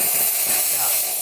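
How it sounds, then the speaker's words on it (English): The steam wand of a Gaggia Classic Pro espresso machine blasts steam into an empty pitcher, giving a loud, steady, broadband hiss that fills the whole moment without a break. "So I'm just going to kind of run some steam into an empty pitcher"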